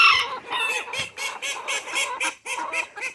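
Chickens and ducks kept together call insistently for treats, a rapid run of loud honking and clucking bursts repeating close by without pause, with no talk.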